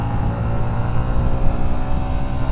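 A Yamaha YZF R125 motorcycle cruising along a back road, its engine a steady, loud drone mixed with wind rush and no pauses.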